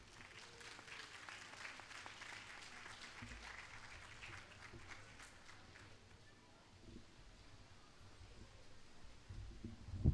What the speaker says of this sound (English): Another big round of applause for North Carolina.